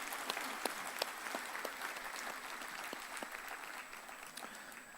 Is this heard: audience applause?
yes